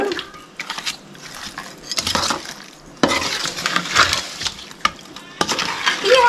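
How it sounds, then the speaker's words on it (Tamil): A ladle scrapes and clinks around a pot of fish curry in repeated stirring strokes, close by, with faint sizzling beneath. "நாங்கள் கரண்டியை வச்சு கலக்கிடுவோம்"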